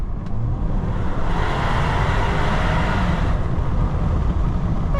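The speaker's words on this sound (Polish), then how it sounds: "Wiecie, dwulitrowa, czterocylindrowa benzynka." A 2018 Range Rover Sport 2.0 Si4 HSE with a 300 hp two-litre four-cylinder petrol engine runs with a steady, close, loud broadband engine roar that holds evenly throughout.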